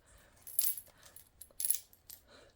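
Small dice nested inside bigger dice are shaken and rolled, giving two sharp bursts of clattering rattles close by, with quieter clicks between them.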